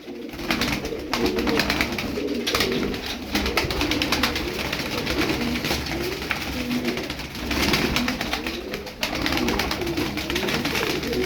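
Tumbler pigeons coo steadily and close by, their soft throaty calls overlapping continuously with occasional wing flutters.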